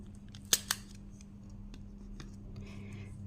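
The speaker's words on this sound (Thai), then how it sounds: "เราก็นำแม็กมาเย็บค่ะเป็นการเย็บให้ติดกับฐานคอดอกเลย" A stapler snaps twice in quick succession, sharp and close, fastening a folded pandan leaf rose to its base, followed by faint handling rustles in a quiet room.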